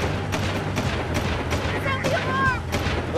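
Hellcat vehicle gun firing in the video game Jak 2, rapid repeated shots with whooshing energy blasts over steady engine hum, fairly loud and continuous.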